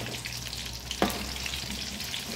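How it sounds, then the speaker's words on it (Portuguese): Banana empanadas fry in hot oil, giving a steady soft sizzle throughout with one brief louder crackle partway, fairly quiet and close. "Vamos deixar fritar até que elas fiquem bem moreninhas"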